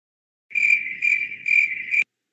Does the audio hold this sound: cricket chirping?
yes